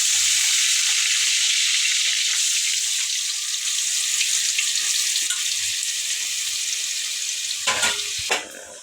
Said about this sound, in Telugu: అందుకని తాలింపు చేస్తున్నా